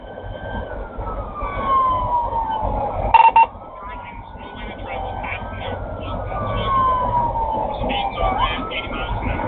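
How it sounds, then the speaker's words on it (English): Police car sirens wail during a high-speed chase, their sweeping tones rising and falling loudly over steady road and engine rumble, with a brief sharp burst partway through. "With their emergency lights and sirens blaring, chased Barclay for a significant distance."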